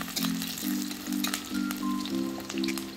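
Onion fries in a wok with black cumin and bay leaves, a steady close hiss with crackling spatter and faint stirring over soft background music.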